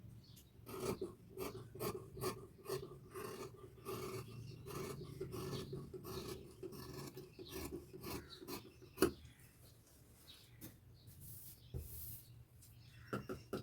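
Scissors cutting folded blouse fabric, producing a steady series of soft rasping snips and rubs close by, fairly quiet, with no talking.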